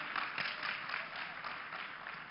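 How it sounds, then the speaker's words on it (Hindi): Enthusiastic audience applause at an interview event in Mumbai, a continuous dense wash of clapping hands at steady volume with faint pulses and no talk over it. "एक बार जोरदार तालियां हो जाएं"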